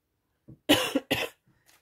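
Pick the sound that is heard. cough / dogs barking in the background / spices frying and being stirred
cough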